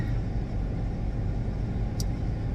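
Car idling or driving in Grand Rapids with the air conditioning on, a steady low rumble and blower hiss filling the cabin, continuous and close with no talk.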